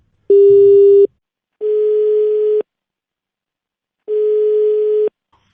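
Three steady electronic telephone tones, each about a second long, separated by pauses of silence; the first is louder with a low buzz beneath it.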